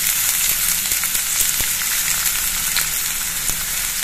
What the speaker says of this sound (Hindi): देखिए प्याज को हमें गुलाबी होने तक भून लेना है।